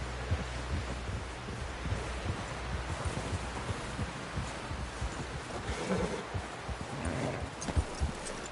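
Horse hooves clip-clop steadily in Red Dead Redemption, a dense rhythmic patter of steps heard close over a noisy outdoor game backdrop with rustling, no talking.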